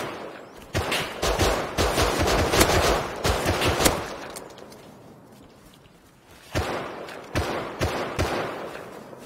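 Automatic gunfire from the video game Rust, heard during a raid defence: loud, rapid bursts of shots, then a short lull, then more rattling volleys close by.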